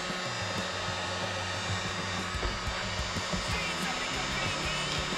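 A heat gun blows steadily on a cracked tail light of a Mazda FC RX-7, a loud continuous fan roar with a broadband hiss, close to the listener, with faint handling noises underneath.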